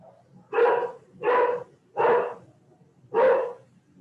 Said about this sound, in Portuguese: Apesar dos latidos aí.